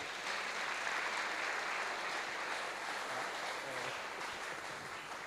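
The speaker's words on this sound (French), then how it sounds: "Merci d'acclamer pour notre maman." A church congregation applauds during a Sunday service, a steady, dense wash of clapping from many hands that holds evenly throughout at a moderate, somewhat distant level.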